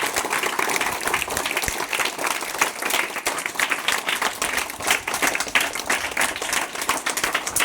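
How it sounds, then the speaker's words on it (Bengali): An audience bursts into sustained, dense applause, with many hands clapping loudly and continuously for several seconds. "সেই ছেলেটার জন্য আমার জোরে একবার হাততালি দিয়ে দাও"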